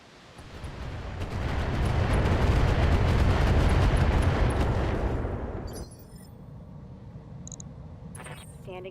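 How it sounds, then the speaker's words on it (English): Missile salvo fired by a mech in the video game BattleTech, a loud sustained rumbling barrage that swells for several seconds then drops away to quieter game sounds with faint electronic tones. "Just pivot slightly and drop some more missiles."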